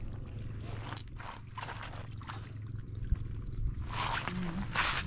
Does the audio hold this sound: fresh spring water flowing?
yes